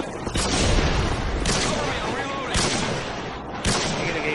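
Gunfire from the Call of Duty video game, dense and continuous with repeated louder bursts roughly every second, heavy low rumble throughout and a voice partly mixed in.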